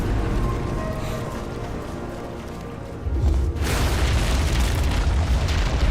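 Bomb explosion in the game Portal 2, a low rumbling boom that swells into a heavier, louder burst about halfway through and keeps roaring to the end.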